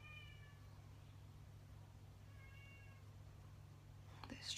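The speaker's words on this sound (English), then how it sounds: "he's meowing out there." A cat outdoors lets out two separate meows a couple of seconds apart, faint and somewhat distant over a steady low hum, followed by a brief clatter.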